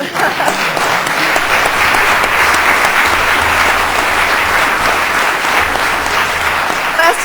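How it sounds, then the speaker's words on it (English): A large audience at a state judiciary address breaks into a sustained round of applause, loud and dense, holding steady for several seconds before tapering at the end. "That could use a round of applause."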